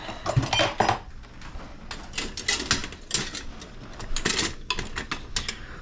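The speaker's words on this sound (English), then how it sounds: "let's get a little reset here on the dishes" Dishes, pots and cutlery clattering and clinking in a home kitchen during cleanup before making falafel sauce, a continuous run of close, loud knocks and chinks with no talk.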